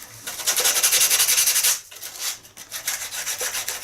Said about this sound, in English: simply sand it